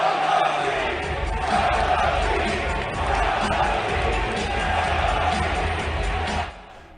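Large arena crowd of basketball fans chanting "sell the team" in a loud, continuous roar of many voices that fills the space and cuts off abruptly near the end.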